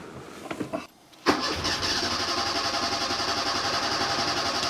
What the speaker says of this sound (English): Let's try to fire it up, and hopefully it sounds a little more decent.